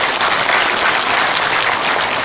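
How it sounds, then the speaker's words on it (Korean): An audience at an indoor patriotic rally gives a loud, sustained round of applause for Vietnam War veterans, steady dense clapping throughout with no voices over it. "박수 한번 보내주시기 바랍니다"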